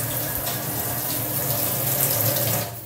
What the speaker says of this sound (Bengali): রোজ একটু করে জল দিয়ে যাই এই মানি প্ল্যান্টের চারাটা